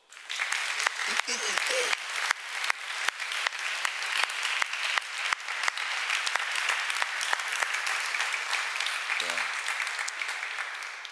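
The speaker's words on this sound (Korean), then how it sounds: "여러분들 열렬히 중고등부를 격려하면 박수하십시다." A church congregation at a Sunday worship service claps steadily in sustained applause lasting the whole stretch, dense and fairly loud, with a brief voice near the end.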